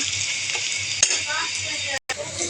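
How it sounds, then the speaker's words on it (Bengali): Garlic, onion and green chili fry in hot oil with a steady, dense sizzle, broken by a few stirring scrapes and a brief pause near the end. "এখানে আমি বেশি করে রসুন পেঁয়াজ কাঁচামরিচ দিয়ে ভেজে নেব তেলে"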